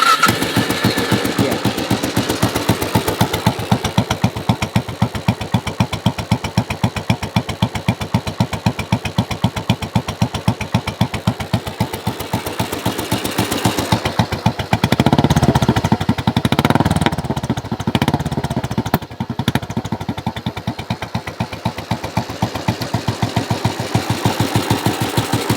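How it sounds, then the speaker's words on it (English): Royal Enfield Bullet 500 single-cylinder motorcycle fires up and idles with a loud, close, steady thumping exhaust beat, briefly swelling and popping midway before settling back into a regular idle. "I'm gonna start it up and give you guys a little exhaust sound."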